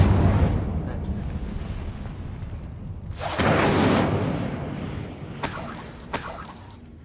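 In Hogwarts Legacy an Incendio fire spell goes off with a sudden roaring whoosh of flame, followed by sharp crackling bursts, all over a low rumbling game soundscape.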